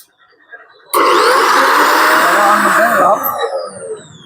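A cement putty sander is switched on and whirs at a steady, loud, close pitch, with slight wavering in its tone before it dips near the end.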